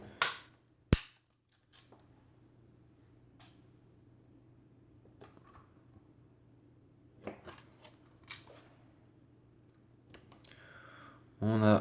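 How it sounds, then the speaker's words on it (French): A Zeiss Ikon Nettar IIc 518/2 folding camera with a Novar 105mm f3.5 lens being closed, sharp metallic clicks and snaps of the struts and bellows folding, spread over several seconds amid quiet handling noise and someone speaking French. "pour refermer l'appareil, simplement on appuie sur les deux ciseaux qui sont ici"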